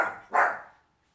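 Two quick dog barks from pet dogs indoors, loud and close, the second sharper and stronger, then a brief fading tail with no talking.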